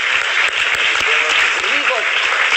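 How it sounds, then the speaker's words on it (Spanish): Dense, steady applause from a crowd for a guitarist fills the clip, with a few voices calling out faintly underneath. "un aplauso para un guitarrista"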